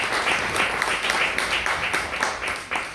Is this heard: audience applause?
yes